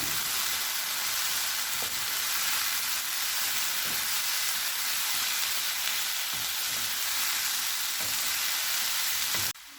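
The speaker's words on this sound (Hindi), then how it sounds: "अब इसमें चिकन डाल देंगे। मिक्स कर लेंगे अच्छे से।" Chicken filling for a chicken cheese paratha fries with vegetables in a pan, a steady dense sizzle running unbroken for about ten seconds, with faint scrapes and taps of stirring and no voices.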